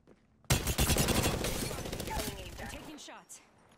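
Rapid automatic gunfire in the Apex Legends video game, a dense loud burst that starts abruptly and runs for a couple of seconds before trailing off into fading echoes and scattered clicks.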